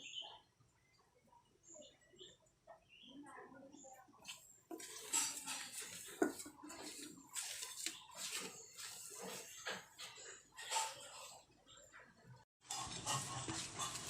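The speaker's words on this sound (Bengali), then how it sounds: "আলুর চোখা মাখাচ্ছি।" Mashed potato chokha being mixed by hand with oil in a bowl: faint, irregular wet squishing and soft clinks in bursts, quiet at first and then busier.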